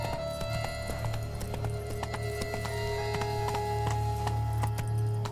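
Roach, Geralt's horse in The Witcher 3: Blood and Wine, trots along with a steady clip-clop of hooves over a continuous low ambient hum, the hoofbeats close and evenly paced throughout.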